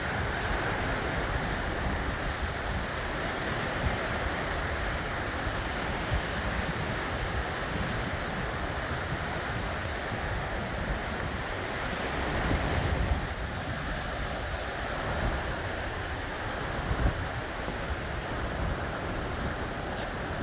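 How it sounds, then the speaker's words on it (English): Steady waves washing onto a Lake Michigan shoreline in Door County, Wisconsin, a continuous broadband wash with wind noise buffeting the microphone and a couple of slightly louder surges. "Listening to the sound of the waves."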